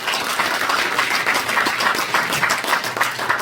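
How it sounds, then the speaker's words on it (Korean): An audience claps steadily for a group of journalists at a public event, a dense continuous wash of applause with no voices over it. "언론인들 박수 많이 보내주셨으면 감사하겠습니다."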